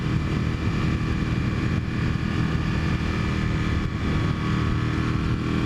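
A motorcycle engine drones steadily and loudly as the rider rolls on the throttle through a knee-down cornering lean, a continuous roar with no break.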